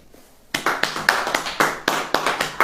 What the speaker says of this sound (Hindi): पहले ताली बजाओ।